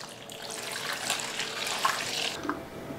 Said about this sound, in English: Get a little bucket,